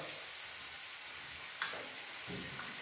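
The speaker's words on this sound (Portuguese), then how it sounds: "Vocês viram que eu coloquei os temperinhos, eu estou devagarinho fritando aqui" Seasonings frying slowly in a pan over low heat, giving a steady soft hiss and sizzle with a few faint clicks and stirring touches.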